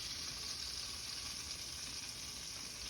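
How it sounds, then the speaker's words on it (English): A ribeye steak sizzling in a pan while being basted with garlic and butter, a soft, even crackling hiss that holds steady throughout. "baste the steak with that garlic and that butter"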